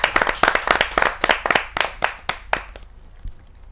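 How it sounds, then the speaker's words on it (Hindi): Applause at a Hindi kavi sammelan poetry gathering: a burst of fairly loud, distinct hand claps in quick rhythm that thins out and fades to near quiet after about two and a half seconds. "जोरदार ताली के साथ हम करते हैं।"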